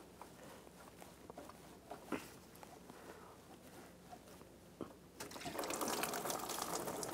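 Coolant trickles and drips from a disconnected engine hose on a 2009-2013 BMW 328i xDrive 3.0L inline-six into a drain bucket, a faint patter with scattered clicks that swells into a steadier gush near the end.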